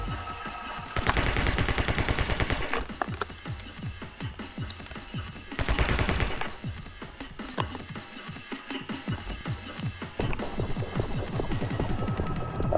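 Rapid video game gunfire in a shooter against AI enemies, loud dense bursts of automatic shots repeating for long stretches, with brief pauses between volleys and a continuous throbbing backdrop.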